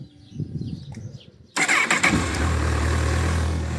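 Honda CBF 1000 ABS motorcycle from 2008 with 34,000 km: quiet clicks and rustling, then the engine cranks and fires at about 1.5 s and settles into a steady, close idle.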